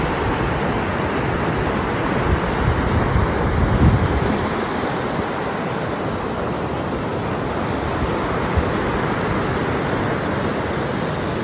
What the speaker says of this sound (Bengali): এসে গেছি ধৌলিগঙ্গার কাছে, একদম হাতের কাছাই, হাত পা ডোবাতে পারবো।